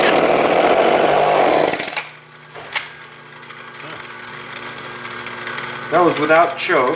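A Homelite chainsaw, dosed with ether for a cold start, fires and runs loud and close for a couple of seconds, then cuts out. Someone talks afterward over faint background noise.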